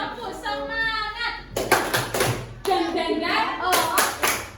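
Schoolchildren in a classroom perform the rhythmic Indonesian 'tepuk semangat' clap, bursts of hand claps in two close, loud sets that follow a stretch of spoken or chanted voice.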